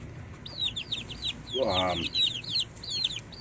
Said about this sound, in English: I went down this weekend and bought some chickens, and as you can see, here they are.